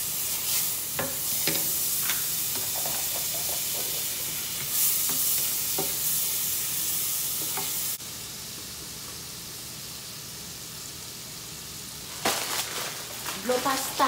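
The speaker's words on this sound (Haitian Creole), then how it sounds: "chaudière en chaud, je vais mettre un petit beurre" Butter sizzling in a hot pot on the stove, a steady frying hiss with clicks of stirring, dropping briefly quieter midway before louder crackles return near the end.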